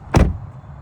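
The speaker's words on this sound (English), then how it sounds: "you shut the door" A single solid thud comes as the door of a 2024 Chevy Equinox EV is shut from outside, close and sharp, then fades into quiet.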